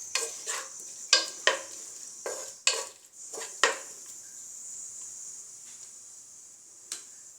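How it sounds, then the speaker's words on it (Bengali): Onions fry in a pan with a soft sizzle beneath a series of sharp utensil scrapes and clinks, about eight quick strokes in the first few seconds, then mostly quiet sizzling with one last tap, no talking. "তো পেঁয়াজটা একটু ভাজা হোক"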